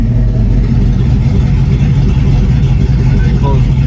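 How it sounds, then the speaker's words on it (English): An LS-powered V8 in a 1972 Chevelle wagon runs with its Flowmaster electric exhaust cutouts open, giving a loud, close, steady throaty rumble that fills the whole moment. "he's got these electric cutouts. That's what you heard, was these electric cutouts"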